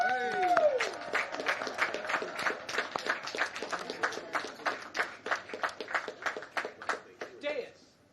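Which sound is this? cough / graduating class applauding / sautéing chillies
graduating class applauding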